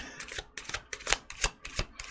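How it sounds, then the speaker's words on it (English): A deck of tarot cards being shuffled by hand, heard up close as a run of quick, crisp riffling bursts at an uneven rhythm, with no talking. "I'm going to go ahead and shuffle, and we'll start the reading once I'm done shuffling."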